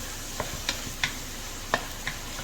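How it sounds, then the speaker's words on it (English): Food is stirred in a frying pan, a utensil tapping and scraping the pan in sparse, quiet clicks over a faint background hiss. "And we'll stir it here. Stir."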